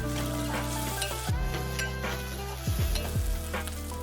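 Drumstick curry being mixed in a pan, with a soft simmering sizzle broken by a few distinct spatula scrapes against the metal near the end.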